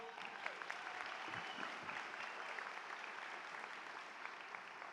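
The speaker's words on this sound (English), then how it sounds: "one more round of applause, if you will" A crowd claps at a college winter commencement ceremony, a sustained even round of applause from many hands filling the hall at a steady level.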